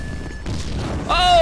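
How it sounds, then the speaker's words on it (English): A loud, low explosion rumbles in GTA 5 gameplay. It swells suddenly near the end with a bright, ringing sweep, heard over the game's background noise. "That explosion must have knocked me out, man."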